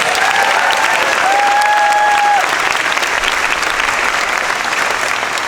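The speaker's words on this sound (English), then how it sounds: "Let's give them another round of applause." Sustained applause from a large crowd honoring cast members at a Disney's Hollywood Studios 35th anniversary ceremony, dense and steady throughout with a few whistles early on.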